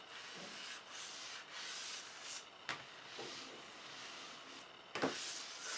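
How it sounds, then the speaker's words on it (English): A mouse slides back and forth across a Razer Ironclad hard mouse pad, making a faint, close scraping rub in repeated strokes with small clicks, and no one talks. "They make noise when you move the mouse around them."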